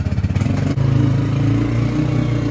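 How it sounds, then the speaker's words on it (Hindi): A motorbike engine sputters to life and settles into a steady, close, loud chugging idle with a throbbing rhythm. "असद चल यार जल्दी स्टार्ट कर बाइक यार"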